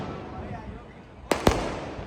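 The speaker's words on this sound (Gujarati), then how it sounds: "ફટાકડા ફૂટવાનું ચાલુ થઈ ગયું છે" Firecrackers burst during a rooftop celebration after an Indian cricket victory, with two sharp, close bangs in quick succession over a background murmur of people.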